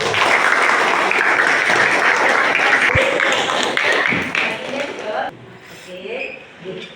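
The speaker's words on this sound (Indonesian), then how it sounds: "Kita beri aplaus yang meriah untuk kelompok" A classroom of students gives a student group a burst of lively applause, dense clapping that fades out after about five seconds, with a voice speaking briefly at the end.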